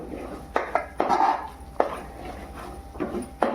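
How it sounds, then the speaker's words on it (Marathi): Metal spoon scraping and knocking in a pot of chicken curry with turmeric as it is stirred, several irregular clinks and scrapes close by, with a dog barking faintly in the background and no talk. "हळद टाकून घेऊ आणि याला परत आता आपण ढवळून घेऊ"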